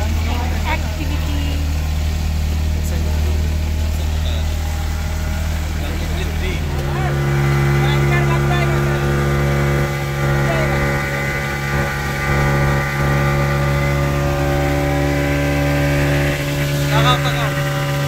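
A boat engine drones steadily and loudly on the ride to Elephant Beach, Havelock Island, its pitch and tone shifting partway through as the boat picks up, with faint voices at times.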